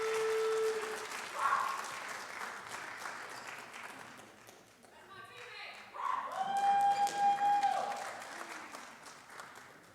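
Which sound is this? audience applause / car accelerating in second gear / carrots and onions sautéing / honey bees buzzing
audience applause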